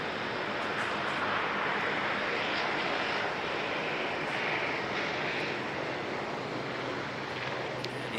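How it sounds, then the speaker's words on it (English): An Air New Zealand flight to Napier departs Auckland Airport in fog, its engines giving a steady, broad roar that holds at a constant loud level throughout with no voices. "And NZ5015 departing now for Napier."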